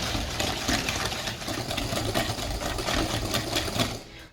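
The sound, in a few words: whisking butter and brown sugar in a bowl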